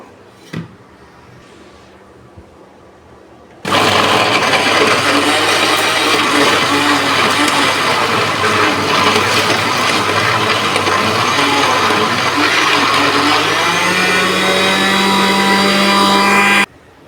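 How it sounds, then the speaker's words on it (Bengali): A blender whirs loudly and steadily for about thirteen seconds, grinding a chicken mixture seasoned with chaat masala for homemade sausages, starting abruptly after a quiet moment and cutting off sharply at the end. "এখন এটাকে আমি ব্লেন্ডার করে নেবো"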